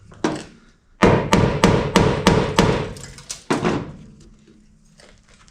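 A hammer pounds a painted-over Phillips screw on a rusty 1957 Chevy 210 four-door during restoration, about eight sharp close metallic blows in quick series, with a short pause before a final strike.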